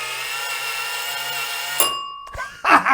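A single bell ting struck by a vacuum tube computer cuts through a steady electrical hum, then rings out with a short metallic decay, followed by a brief clunk and rattle.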